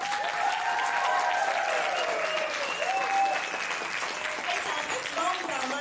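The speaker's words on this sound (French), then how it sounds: "Bonne main d'applaudissements" A school show audience applauds its volunteer organizers at a university red-carpet event, a steady wash of clapping that holds for several seconds, with voices faintly heard among the claps.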